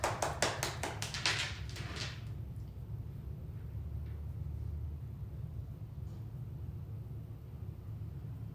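Quick burst of hand claps from a small group at the start, a few close sharp claps fading out within about two seconds, followed by quiet room rumble.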